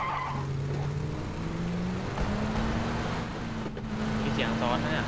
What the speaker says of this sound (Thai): เอามาขับรถเข้าไปชุมดีกว่า